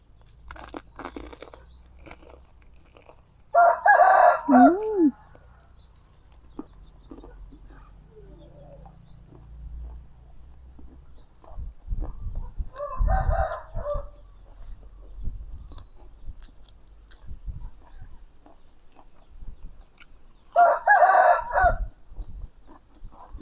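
A rooster crows three times, spaced several seconds apart, loud and fairly close, with quiet background noise between calls.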